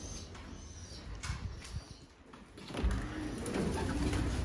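Pigeons coo softly in a breeding cage in a loft, low murmuring calls under faint rustling and background hiss, with no talk.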